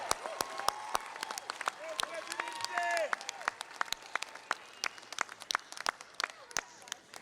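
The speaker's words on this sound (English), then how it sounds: "A round of applause and a lot of love for President Parham." Scattered audience applause at a university commencement ceremony, sparse distinct claps rather than a dense roar, with brief crowd voices mixed in during the middle.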